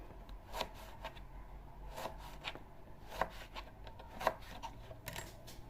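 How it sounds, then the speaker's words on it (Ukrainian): A knife slicing eggplant into thin strips on a board gives a series of soft, irregular chopping taps. The strokes are spaced apart, fairly quiet and close by, with no talking. "Отак соломкою тепер нарізаємо."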